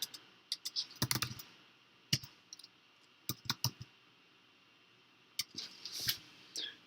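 Typing on a computer keyboard, quiet and close: short bursts of clicky keystrokes separated by pauses, with a final flurry near the end.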